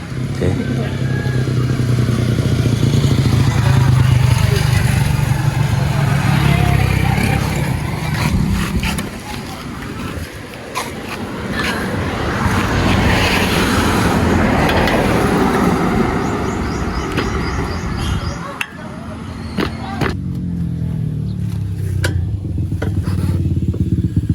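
A motorcycle engine runs steadily and loudly at close range for the whole stretch, with a low rumble and occasional clatter, a brief drop near the end, while people talk over it.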